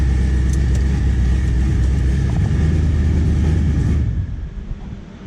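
A 1,000-horsepower Chevelle engine runs loud and close, a dense steady roar, then is switched off around four seconds in, its sound falling away quickly into a quieter fading rumble.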